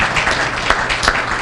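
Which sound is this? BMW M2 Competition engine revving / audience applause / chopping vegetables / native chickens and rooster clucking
audience applause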